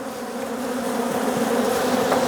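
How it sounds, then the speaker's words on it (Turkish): Honeybees swarm around an opened hive and dive at the camera, a dense, close, continuous buzzing drone that holds steady and swells slightly, with no voices. "Biraz kamera çalıştığı için arılar kameraya saldırıyorlar."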